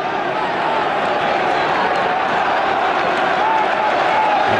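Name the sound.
football stadium crowd applause for Nigel Winterburn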